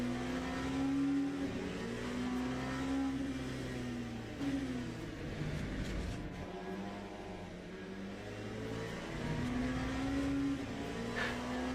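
Porsche race car engines in the Le Mans Ultimate racing game drone loudly and steadily, pitch rising and falling with acceleration and gear changes across a multi-class race, with no voices.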